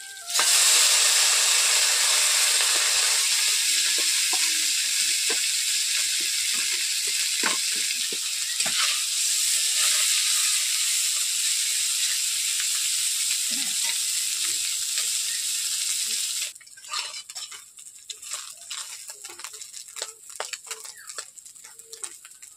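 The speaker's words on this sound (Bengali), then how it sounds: "এরপর মাছগুলোকে ভেজে রাখা মাছগুলোকে আমি আবারও হালকা করে ভেজে নিচ্ছি" Salted ruli fish fries again in oil in a wok with a steady, loud sizzle and hiss that carries on for most of the time before dropping away abruptly, leaving faint clinks and stirring.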